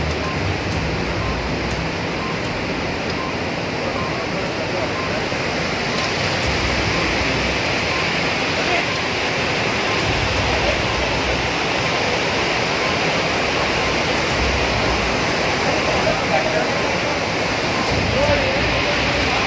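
Water released from the full Hemavathi dam rushes out into the canals at over eleven thousand cusecs, a loud, unbroken roar of churning water that holds steady throughout.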